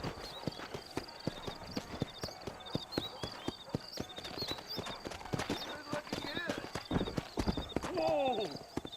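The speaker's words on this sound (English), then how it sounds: "You ain't gonna find sturdier horses than these in all of New Austin." Horse hooves clip-clop in a fast, steady trot with a whinny near the end, while someone talks over the rhythm, in the video game Red Dead Redemption.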